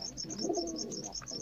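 Rampuri Kalsire pigeons coo softly in a repeating, rolling rhythm, with several birds overlapping close by and faint chirps in the background.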